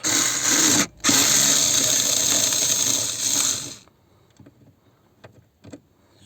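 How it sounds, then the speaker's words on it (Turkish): Torx screws being removed from the instrument cluster of a Hyundai Accent: a loud, steady mechanical whirring for about four seconds with one short break, then a few faint, scattered clicks and ticks. "Birer tane daha yıldız vida var. Onları da bu şekilde söküyoruz."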